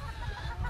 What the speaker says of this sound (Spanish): aquí les muestro un pollito Penny